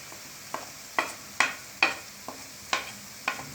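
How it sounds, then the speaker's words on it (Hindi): Turmeric and coriander powder frying in a pan over medium heat while being mixed, heard as a faint low sizzle under a series of about eight crisp, evenly spaced ladle scrapes and taps against the pan. "अब इनको फ्राई करना है 5 मिनट तक। दोनों को इस तरह से मिक्स कर लें।"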